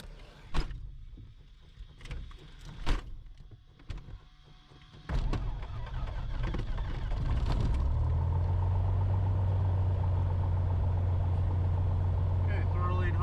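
Small piston aircraft engine cranking and catching, then settling into a steady loud idle, with brief clicks and cockpit handling noises before it starts.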